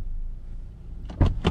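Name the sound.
Toyota RAV4 car door closing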